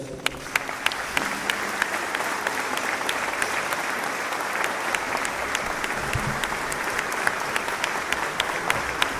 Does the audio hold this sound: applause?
yes